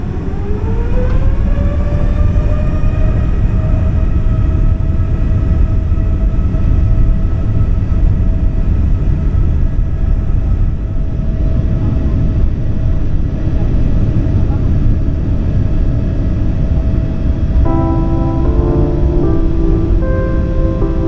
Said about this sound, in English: we are ready for takeoff